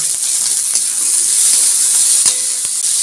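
Green beans and carrots hitting hot oil in a frying pan while chow mein is being cooked, giving a steady close hiss and sizzle with a few faint clicks and no talking.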